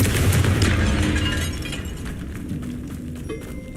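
Confringo blasting spell in Hogwarts Legacy, a loud close explosion with a heavy booming burst and crackling debris that fades into a lingering rumble.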